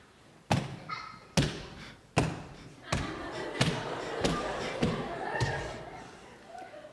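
Heavy fists pound repeatedly on a wooden door in a staged Shakespeare comedy, about eight loud thuds in an irregular rhythm, the later blows piling into a noisy commotion with voices underneath.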